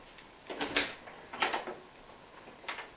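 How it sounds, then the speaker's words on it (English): A nursery door opening inward into the room, with three short clicking and creaking bursts spaced about a second apart, close by and fairly quiet, with no talking. "His door opens to the inside"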